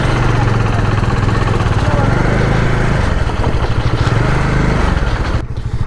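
Motorcycle engine roaring steadily on a night ride heading from Velas onward after leaving a ferry, loud and continuous with close wind rush, dropping briefly near the end.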